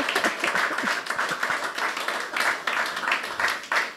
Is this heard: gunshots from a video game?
no